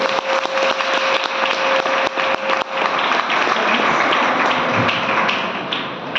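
A seated audience applauding loudly and continuously in a hall, dense close clapping that holds steady before thinning slightly toward the end.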